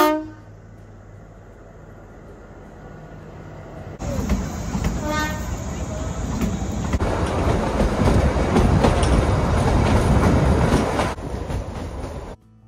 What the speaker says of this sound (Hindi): ट्रेन के सफर में ना एक अलग ही फील है, मज़ा आ रहा है